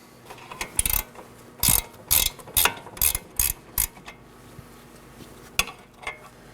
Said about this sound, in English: Now I can finish removing the nut.